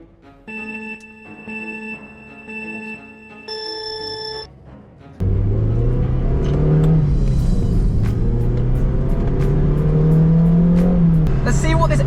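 A Mazda MX5 starts a lap on a race track: after a few seconds of electronic chiming tones, the engine comes in loud and close, droning steadily as its pitch climbs and falls with acceleration and gear changes.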